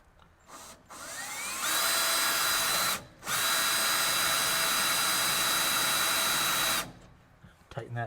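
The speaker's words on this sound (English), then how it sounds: "Drill a few of these at once here." A power drill whines loudly through the sheet metal of a 1967 Kaiser Jeep M715 cab floorboard, drilling out spot welds in two long bursts, briefly stopping between them, with a high steady pitch and grinding rasp.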